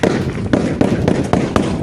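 Gunfire at the Kyrgyz border in Batken: a quick series of sharp, loud shots, some close together and some spaced apart, cracking over a noisy background.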